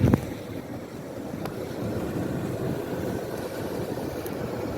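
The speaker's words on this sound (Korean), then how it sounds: "야 파도가 대단합니다 지금 파도가" Strong sea waves and wind heard from a boat out at sea, a loud continuous rumbling wash of water and gusting air with faint knocks, no voices.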